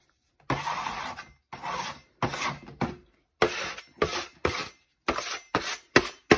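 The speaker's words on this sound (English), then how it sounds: "Scrape your pan off before you use it." Repeated scraping strokes against a baking pan while assembling a gingerbread house, about ten short rasping passes in uneven bursts, close and fairly quiet, with no voices.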